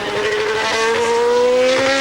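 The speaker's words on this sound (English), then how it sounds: "Let's listen to the engine note, this V8 Ford." A Ford V8 Formula 1 engine screams in Ayrton Senna's onboard view at Donington Park in 1993, a loud, sustained high-revving note that climbs steadily in pitch.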